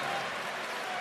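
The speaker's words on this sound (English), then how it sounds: "So Banchero is going to hear the applause as he goes off." Broad wash of basketball crowd applause at a FIBA World Cup game between the USA and New Zealand as Banchero leaves the court, steady and fairly loud over its short span.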